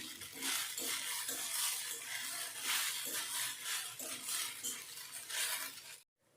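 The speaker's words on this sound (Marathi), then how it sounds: "पाच मिनटं असंच परतत राहायचं आहे म्हणजे खिचडी खाली चिकटणार नाही" Soaked sabudana khichdi is stirred and scraped in a pan in a rhythmic, close, steady run of strokes with faint sizzling underneath. It stops abruptly into silence just before the end.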